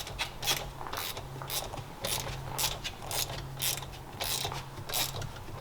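A hand ratchet clicks in quick repeated bursts while tightening carburetors onto a Seadoo jet ski engine, with short pauses between strokes. The sound is close and there is no talking.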